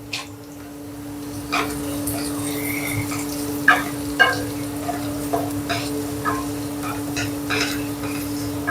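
Crushed chili powder fries with browned shallots and garlic in a pan, a constant sizzle under a low hum, broken by scattered scraping stirs from a spoon.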